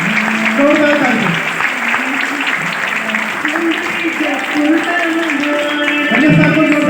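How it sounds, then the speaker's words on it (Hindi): Audience applause fills a seminar hall, sustained clapping throughout with mixed voices and tonal sounds layered on top. "जोरदार ताली से स्वागत है।"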